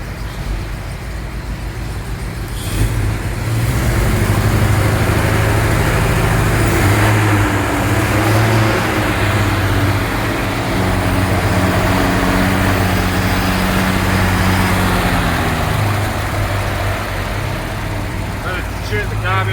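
A car engine idles and revs steadily while its carburettor is adjusted and timing set, a continuous loud mechanical drone with shifting pitch as it is dialed in, with voices talking over it.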